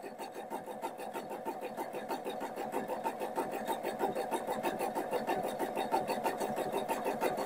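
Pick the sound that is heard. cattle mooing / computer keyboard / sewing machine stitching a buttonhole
sewing machine stitching a buttonhole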